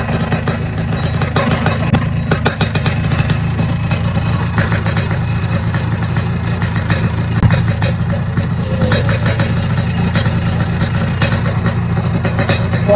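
A Yamaha RX King two-stroke motorcycle idles with its lights on, fitted with a full-wave NMAX regulator. The engine holds a steady, loud, close-up rumble with a fast even pulse and no revving for the whole stretch.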